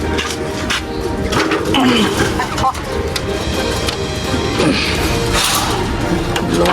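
Pigeons cooing softly amid busy outdoor clatter, with a few low warbling coos standing out over scattered knocks, rustling and a person talking nearby.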